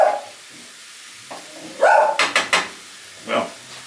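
Several dogs bark in a short burst of sharp yelps near the middle, loud and close, following quieter kitchen sounds as fat renders and bubbles in a pan for American goulash.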